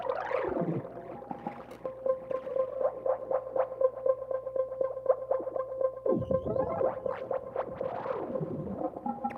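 Sustained electronic synth tones from a Tonverk with a heavy, washy reverb and delay echoing repeats, pitched sweeps rising and falling at the start and end, no talking.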